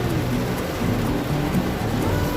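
Heavy rainstorm with thunder, a loud, continuous roar of downpour with low rumbling underneath, sustained without a break.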